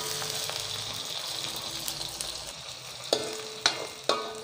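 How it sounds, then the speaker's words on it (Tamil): Onions frying for a Jaffna-style soya meat curry: a steady, soft sizzle of oil in the pan, with three sharper clinks of a utensil near the end, no talking. "இப்போ வெங்காயம் ஓரளவு பொரிஞ்சிட்டுது"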